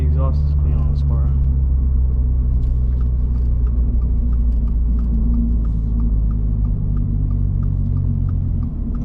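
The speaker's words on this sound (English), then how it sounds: "The exhaust is clean on this car." A 2024 Toyota GR86 with a manual gearbox driving, its exhaust and engine giving a steady, loud low drone close up throughout, with a voice talking briefly at the start.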